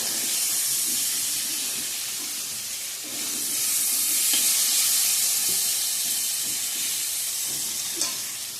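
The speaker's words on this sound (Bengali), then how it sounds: "ঘুগনি ছোলার জন্য আলুগুলো ভেজে নিচ্ছি ভালো করে" Potatoes frying in oil for ghugni, a continuous close sizzle and hiss that swells in the middle, with occasional soft stirring clicks and a single sharper knock near the end.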